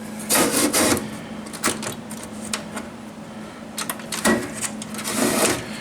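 A RAM card is slid back into a Z80 computer's card rack cage, giving a string of close scraping and clicking knocks with short sharp bursts and quieter stretches between them.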